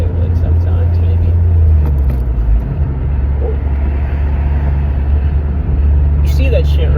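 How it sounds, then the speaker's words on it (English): A manual car being driven, its steady low engine rumble and road noise continuous and fairly loud throughout, with a slight shift in tone partway through. "This is a manual car."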